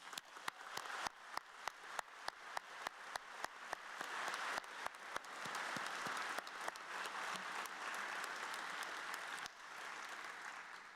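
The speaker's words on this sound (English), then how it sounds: "I think the admissions committee deserves a round of applause" White coat ceremony audience claps for the admissions committee, opening with distinct individual claps that quickly swell into full, steady applause from a large room, heard faintly at a distance.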